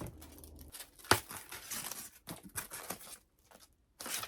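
Scissors cut open a well-sealed package, giving close, quiet snips and papery tearing and rustling in short bursts separated by brief pauses.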